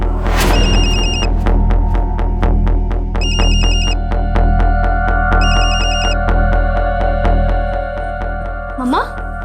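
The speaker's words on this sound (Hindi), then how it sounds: "मम्मा, मेरा फोन बज रहा था क्या?" A mobile phone rings loudly in a repeating ringtone pattern in a home scene from an Indian TV crime drama, with regular pulsing beeps and bursts of melody, ending with a brief rising sweep.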